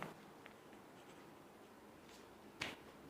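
A pen moves across paper while a Class 10 quadratic equation is solved, with faint scratching strokes and a few sharper taps, quiet and close with no talking.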